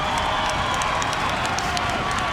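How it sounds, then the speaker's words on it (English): A packed arena crowd at a UFC fight in the Cox Pavilion roars and cheers continuously, a dense loud wall of shouting with scattered clapping and no clear speech. "Listen to the crowd react."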